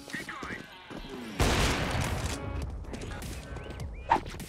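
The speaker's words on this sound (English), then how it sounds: "Nice shot, Nick." Gunfire in the video game CS:GO, a burst of rapid shots erupting mid-clip and continuing loudly over game noise, with players talking around it.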